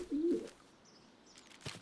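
A cartoon pigeon gives a soft, low coo at the start, followed by faint chirps and light rustling in a quiet scene, with no speech.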